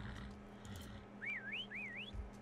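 Two short, rising and falling whistled phrases sound faintly over a low background hum, one right after the other, in the video game Atlas.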